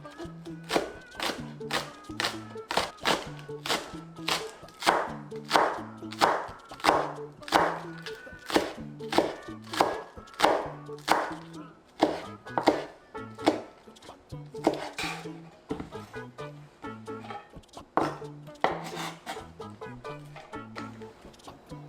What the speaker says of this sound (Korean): 쪽파 6쪽이 송송 다질게요